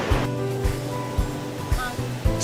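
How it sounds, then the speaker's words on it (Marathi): Steady roar of surf washing onto Nivati Beach near Malvan, India, in the morning, with soft rhythmic thumps underneath and a faint voice in the background. "समोर निळाशार समुद्रामधून ह्या पांढऱ्या शुभ्र लाटा किनाऱ्यावर येऊन धडकत आहेत"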